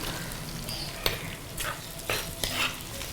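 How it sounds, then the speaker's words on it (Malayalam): Shallots frying and sizzling in hot oil for a fish head curry, with a steady crackle broken by several sharp scraping stirs of the spoon, close and moderately loud, no talking. "ഉള്ളി ഇടാൻ പോവാണേ."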